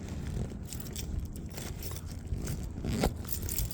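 Keys are pulled out of a backpack with steady close-up rustling of fabric, scraping and a light metallic jingle running throughout, with no talking.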